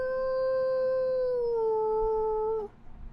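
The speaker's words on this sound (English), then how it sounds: "It was a howl." A single long wolf howl holds a steady, slightly falling tone for over two seconds before breaking off, fairly faint as if carried from a distance, with no voices alongside.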